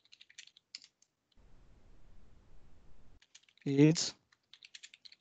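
Keys tapped on a computer keyboard while entering a question into a help desk chatbot: a soft, steady run of clicks lasting a couple of seconds, with brief speech just before and after.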